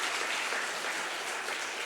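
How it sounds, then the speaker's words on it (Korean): A church congregation at a men's mission dedication service claps loudly and continuously, a dense, even burst of applause with no talk over it. "박수 한번 쳐야죠."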